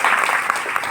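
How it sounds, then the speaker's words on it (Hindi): An indoor audience claps for a newcomer on stage, a dense, loud, continuous burst of applause that stays even throughout. "तालियां बजा दो भाई के लिए"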